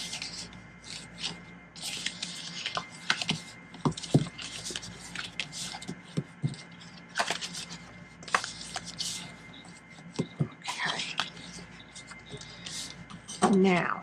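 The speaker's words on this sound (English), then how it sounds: "now we're just going to fold and burnish all the lines that go all the way across" Paper score lines on a Halloween goodies box are folded and burnished, giving close, intermittent rubbing and scraping strokes with soft taps, under occasional talk.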